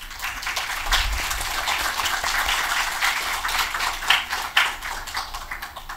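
Audience applause at a talk on technology startups, a continuous patter of many hands clapping with a few sharper individual claps standing out.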